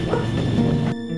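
A large dog barks in a dense, loud burst that cuts off abruptly, leaving a faint background hum.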